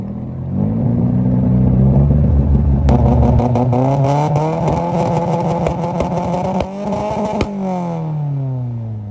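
Red Ferrari sports car on Bengaluru streets fires up and revs, a loud deep engine roar climbing and falling through several throttle blips with sharp crackling pops, close by and dominant.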